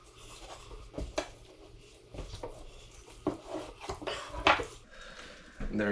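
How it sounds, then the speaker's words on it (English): A big knife cross-cuts a homegrown pork ham at the ball joint, giving a series of scraping, clicking cuts and knocks against bone and board, close and irregular, with a brief faint voice. "So I'm going to take my big knife, run it on down, and just cross cut the entire thing."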